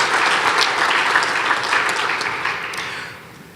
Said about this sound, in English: Big round of applause for Jay.